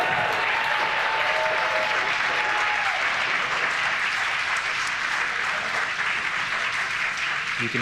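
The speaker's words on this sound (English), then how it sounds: "You can hear the cheer and the applause," A crowd cheers and applauds steadily as a SpaceX Falcon 9 first-stage booster lands for the ninth time, a dense, loud wash of clapping and cheering that carries on throughout without a break.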